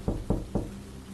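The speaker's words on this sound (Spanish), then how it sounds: "Tocaron a la puerta, muy despacio" Three slow, evenly spaced knocks on a door, close and solid, followed by a quiet steady background with no voices.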